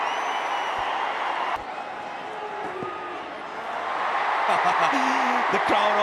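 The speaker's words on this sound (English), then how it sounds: "The crowd also loving it" Stadium crowd at a cricket match featuring Virat Kohli, a broad roar of cheering and applause spread wide and steady, swelling louder toward the end, with a commentator talking over it.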